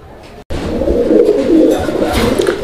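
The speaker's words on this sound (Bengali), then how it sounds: "এটা হচ্ছে গ্রিজেল কবুতর একটা জোড়া" A pair of grizzle pigeons coo steadily in low, throaty murmurs after a brief silence, the soft rolling calls overlapping close by with no talking.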